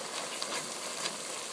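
Food frying in a skillet over high heat, a continuous close hiss and crackle with a couple of small pops, with no voices.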